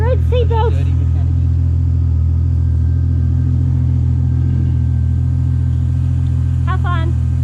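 A Nissan Skyline, revived after sitting abandoned, idles and rumbles with a steady low engine drone as it sets off on a drive around the block, with a voice speaking over it.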